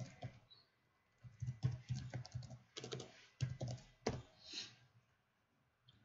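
Keys on a computer keyboard clatter in short irregular bursts of close, crisp clicks separated by brief pauses, fairly quiet overall.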